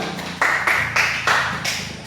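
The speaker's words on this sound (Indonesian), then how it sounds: "Ya, tepuk tangan." Classroom applause, with several short bursts of clapping in quick succession, close and fairly loud.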